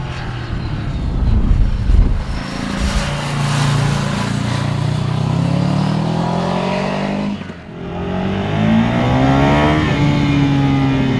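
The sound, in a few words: twin-cylinder motorcycle engine revving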